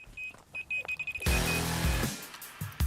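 A carp fishing bite alarm beeps a steady high electronic tone on and off, then sounds a sustained high-pitched alarm over low rumbling outdoor noise.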